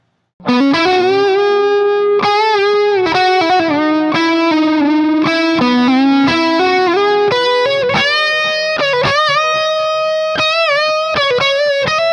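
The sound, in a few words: electric guitar fusion tone with analog delay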